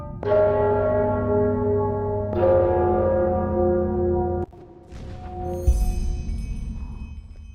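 Church bells ringing in the Enderal mod of the game Skyrim, two long resonant strikes that hum and sustain, then a cutoff followed by a fainter clang and rustling, loud and near with no talk.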